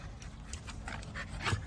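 A dog pants rapidly and steadily at close range, with quick rhythmic breaths and a faint whimper near the end, heard through a playback.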